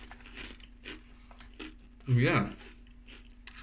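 Crunching and chewing of serrano chilli and Yucatan honey tortilla chips, one loud close bite-and-crunch burst in the middle, with a person talking before and around it.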